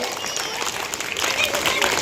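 A school audience at a Republic Day celebration applauds during a comic drama about an uneducated politician, a dense, steady wash of claps rising slightly louder toward the end, with crowd noise and voices mixed in.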